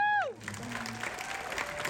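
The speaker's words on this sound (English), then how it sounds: "can we get a round of applause?" Applause from the audience at the Toronto premiere of the film Infinity Pool rises out of a brief falling tone and carries on as steady, dense clapping with some crowd noise for about two seconds.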